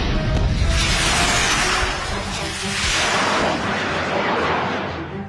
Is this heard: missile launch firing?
yes